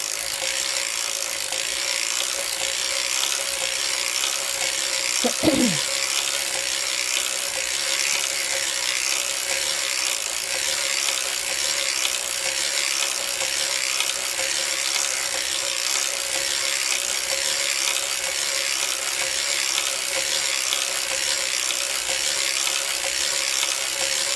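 A hand-cranked circular sock knitting machine knits a sock toe with Lycra yarn, giving a steady, fairly loud mechanical whirring and rubbing that runs throughout, with one brief knock near the start and no talking.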